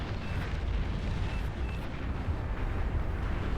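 Explosions from torpedo bombers striking in the real-time strategy game Beyond All Reason, a steady, loud rumbling barrage of overlapping booms and blasts with no clear gaps.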